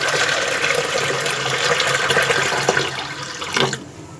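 Water pours into a pot of spiced lentils for haleem in a home kitchen, a steady splashing gush that cuts off near the end, close and clear, with nobody talking.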